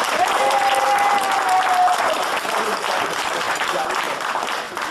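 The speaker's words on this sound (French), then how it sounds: "Un applaudissement, bien sûr, pour Robert et Claude pour leur anniversair" A room full of guests at a family birthday gathering in Lachamp-Raphaël breaks into sustained, dense applause, with a few voices calling out over the clapping.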